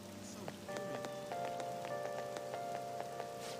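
Steady rain falls in the game Persona 5 Royal, with a broad constant hiss of drops and scattered sharper patters throughout, while soft tonal music sits underneath.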